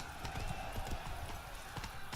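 Horse hooves clip-clopping at a steady riding pace in Witcher 3: Blood and Wine near the tourney grounds, continuous and fairly close over a dense game soundscape with crowd cheering in the background.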